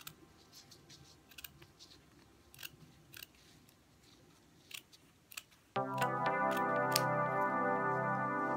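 Scissors snip paper strips for conical paper beads: several soft separate cuts, then a louder steady mechanical hum joins near the end.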